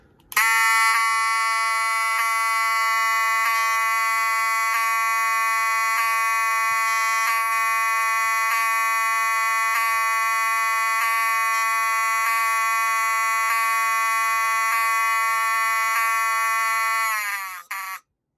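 A loud, steady electronic alarm horn from a Wheelock 7002T fire alarm blares continuously for many seconds at close range, then cuts off abruptly near the end.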